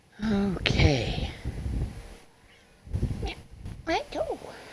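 A cat gives several meows and chirping mews close by, interspersed with a person's soft talking.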